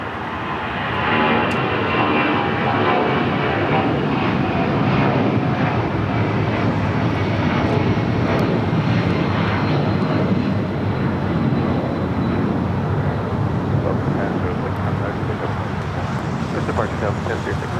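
Delta 1036, a jet airliner departing LAX, makes a continuous rumbling engine roar that swells and holds, with people talking faintly underneath.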